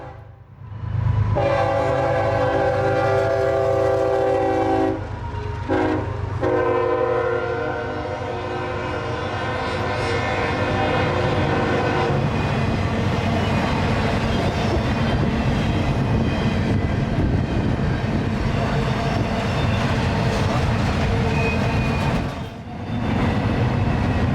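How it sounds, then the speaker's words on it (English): Southbound intermodal freight train I-137 passing through downtown Folkston, Georgia: a loud, sustained horn blast with strong harmonic tones over a steady heavy rumble of railcars rolling by close. "starting out with southbound intermodal I-137"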